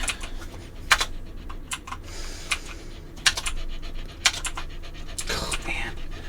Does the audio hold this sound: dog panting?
yes